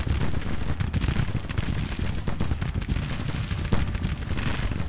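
Cannon and artillery fire from a Grand Tactician: The Civil War battle, a dense, continuous barrage of booming shots and rumbling blasts that goes on loudly with no pauses.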